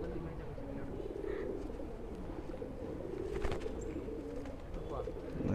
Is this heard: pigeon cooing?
yes